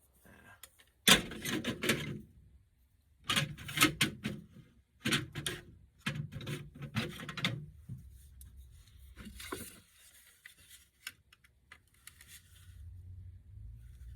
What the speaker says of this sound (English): Maybe I'll just try another screwdriver.